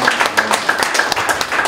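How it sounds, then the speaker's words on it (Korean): An audience claps together at a CEO-course lecture hall talk, a dense, steady patter of many hands lasting under two seconds, fairly loud and close with no voices over it. "이때 박수를 많이 치시면"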